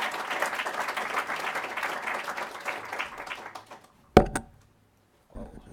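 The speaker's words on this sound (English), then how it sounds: "I would like to give a warm welcome to you and give him an applause." Warm audience applause at a Congolese genocide remembrance event, continuous clapping that fades out after about four seconds, followed by a sharp knock or bump near the microphone and brief quiet.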